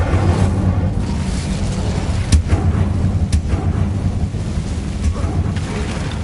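Incendio fire spell cast in Hogwarts Legacy, a loud rumbling whoosh of flame with booming low roar and a couple of sharp crackling bursts, set against steady game background noise.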